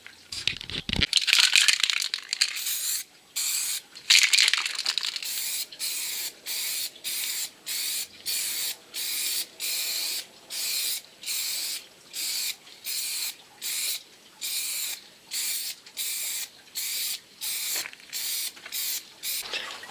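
An aerosol can of primer spray filler hisses in short bursts to refinish sun-damaged automotive clear coat, the sharp sprays repeating in a steady on-off rhythm, close and fairly loud.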